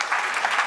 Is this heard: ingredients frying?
no